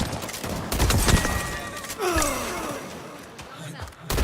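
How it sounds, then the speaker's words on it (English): Rapid gunfire in a video game firefight, dense crackling bursts early on followed by a vocal exclamation, with shots continuing under the noise of combat. "Opening fire!"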